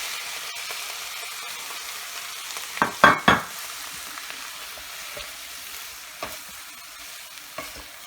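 Onions and capsicum stir-fry over high heat, a soft steady sizzle broken by a few sharp clatters and scrapes of a spatula stirring in the pan.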